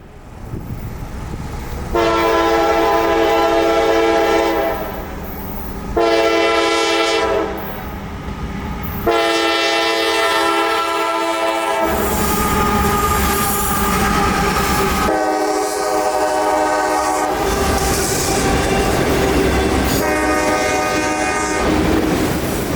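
A CSX intermodal freight train passes close by at Folkston, Georgia, with a steady loud rumble and wheel noise throughout, and its horn blows in several long, loud blasts over the running train.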